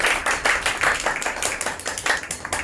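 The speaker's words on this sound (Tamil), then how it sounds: "கைத்தட்டி ஆண்டவர் மகிமைப்படுத்துங்கள்." Church congregation clapping hands in worship, a steady run of sharp, overlapping claps at even rhythm, close and fairly loud, with no talking over it.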